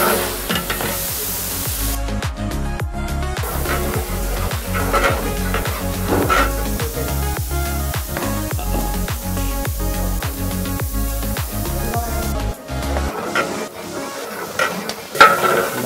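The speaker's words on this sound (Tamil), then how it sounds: "அது 3 கிலோ வெங்காயம் ஆயிலுக்குள்ளே போடுறாங்க" Onions sizzle and fry in a large amount of hot oil for Vaniyambadi mutton biryani at Khaja Restaurant, with steady loud crackling and repeated rhythmic stirring scrapes throughout.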